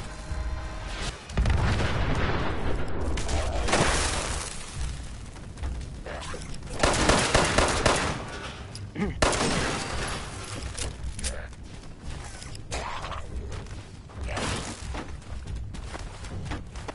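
Chaotic bursts of gunfire and heavy booming blasts from a Fallout 76 firefight, loud and sustained with repeated volleys and explosions, while a voice speaks intermittently over the combat.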